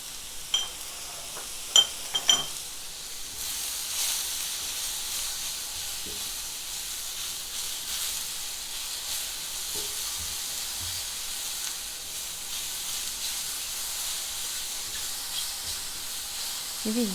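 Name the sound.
mushrooms frying in a pan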